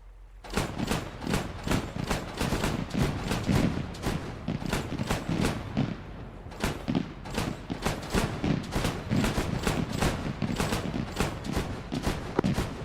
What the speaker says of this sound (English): Still taking fire